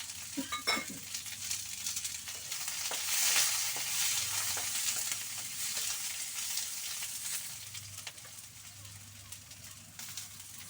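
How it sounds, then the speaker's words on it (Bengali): Split green chillies frying in hot oil in a pan for chilli chicken, a steady close sizzle with light stirring and utensil clinks, a voice faintly in the background. "কতগুলো কাঁচা লঙ্কা দেখো দুভাগ করে নিয়েছি, চিড়ে রেখেছি, এবার এটা দিয়ে দিচ্ছি"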